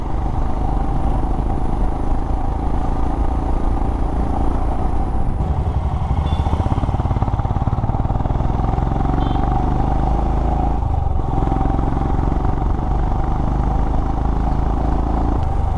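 Motorcycle cruising along a road in Kerala, its engine a steady close drone throughout with road and wind noise, a brief clattering passage midway, no voices.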